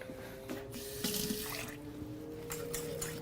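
Water runs from a tap in a cooking game kitchen, a continuous hissing splash with slight surges and spatters, steady and fairly close, with no voices.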